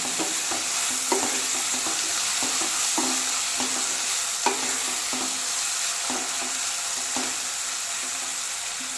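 Chopped tomato frying in a pan for mushroom biryani: a steady bright sizzle with scattered spoon clicks and stirring scrapes, close and with no talk.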